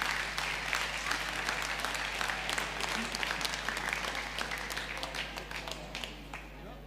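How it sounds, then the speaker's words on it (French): Loud, sustained applause from an audience at a young-handlers cattle championship show, many hands clapping together at an even level, with a faint low electrical hum underneath. "je vous demande très sincèrement de les applaudir bien fort pour leur très joli"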